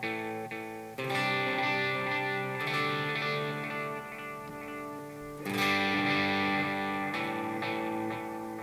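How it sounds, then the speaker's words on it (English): An electric guitar plays sustained chords through an analog delay pedal set for a dark, warm, lightly modulated repeat trail, the notes ringing and smearing into soft echoes, loud and alone with no talking. "You can set it so this delay trail is really dark"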